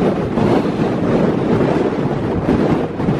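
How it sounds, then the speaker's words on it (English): Strong wind roars steadily across an exposed ridge in the Brecon Beacons of Wales, a loud, continuous buffeting rush with no voices. "the wind is blowing like a hoolie up here"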